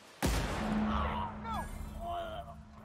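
A Tesla cannon fires in The Outer Worlds: one sudden, loud, close blast with a sharp onset, then ringing electronic whines and swooping tones from the game as the energy fades.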